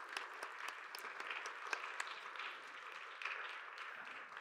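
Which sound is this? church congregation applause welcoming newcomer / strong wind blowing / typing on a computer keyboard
church congregation applause welcoming newcomer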